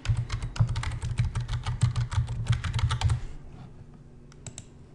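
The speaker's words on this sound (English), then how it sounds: "I can enter that term in the search box and hit search" Close, brisk typing on a computer keyboard as a search term is entered, a dense run of rapid key clicks for about three seconds, then a few scattered taps over quiet room hum.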